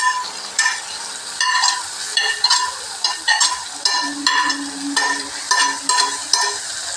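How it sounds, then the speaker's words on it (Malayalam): Bitter gourd frying with crushed chilies, shallots and garlic, a bright crackling sizzle broken by regular rhythmic stirring strokes and scrapes, loud and close with no speech. "ഈ കൊച്ചുള്ളിയും കാന്താരിയും ഈ പാവയോടെ കുറച്ചുകൂടെ ഒന്ന് മൂത്ത് വരണം"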